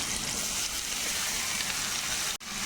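Chopped onions hitting a pan with garlic while a Vypin-style clam (kakka) dish is cooked, giving a steady, loud, close sizzle that continues without talk, with a brief break near the end.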